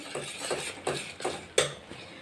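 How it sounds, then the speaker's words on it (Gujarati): Undhiyu vegetables and spice mix being stirred in a pot, a spoon scraping and clinking against the metal in about five rhythmic, close strokes, with no talking. "હવે આ બધું હલાવી લેશું"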